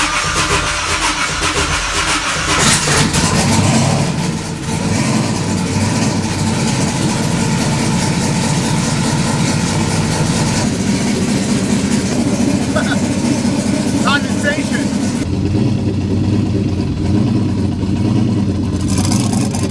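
A big turbo Camaro engine starts up and settles into a loud, rough idle that continues steadily, with people talking over it now and then.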